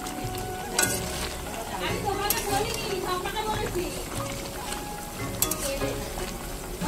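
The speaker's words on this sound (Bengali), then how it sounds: "এবার এসে আমি ভাজাটাকে একটু নাড়িয়ে দিলাম" Meat frying in a pan is stirred at an outdoor picnic cook-up, with continuous close sizzling and scraping and occasional louder clatters, while a voice talks over it.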